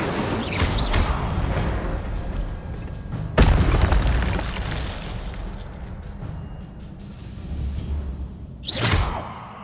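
Spell-casting effects from the video game Hogwarts Legacy, including the Incendio fire spell, with a sharp booming burst near the middle and another whooshing blast near the end over a steady rumbling game backdrop.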